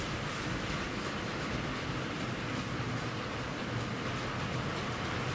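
A Hornby Class 60 diesel locomotive in OO gauge, a brand-new DB Schenker model, runs steadily on the track. It gives a continuous, even, faint whirring rumble with no pauses and no voices.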